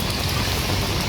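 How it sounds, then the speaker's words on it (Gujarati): Heavy rain pours down over Vadodara city in a dense, loud, continuous hiss of drops hitting surfaces, with no voices over it. "તમે જોઈ શકો છો જે પ્રમાણે આ વરસાદ ધમાકેદાર પડી રહ્યો છે"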